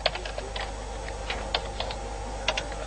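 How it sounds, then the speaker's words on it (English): Programme schedules being typed on a keyboard at a Muslim television station, a quick uneven run of close, crisp key clicks with no voices. "finally it has to be typed"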